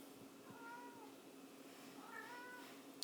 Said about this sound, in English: My cat wants to join in the conversation.